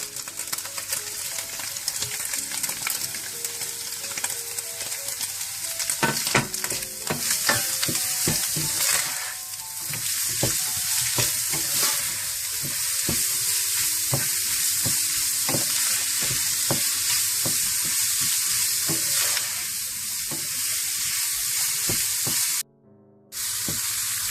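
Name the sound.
frying carrots, green onion and capsicum for Chinese rice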